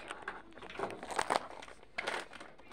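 Scissors cut open plastic packaging close by, giving soft crinkling and snipping crackles in a few uneven bursts over a quiet room background.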